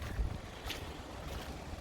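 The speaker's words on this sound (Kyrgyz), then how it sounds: "Мотор ровно иштейт." A Kia Rio's engine idles, a faint, steady low rumble with soft broadband noise and no speech.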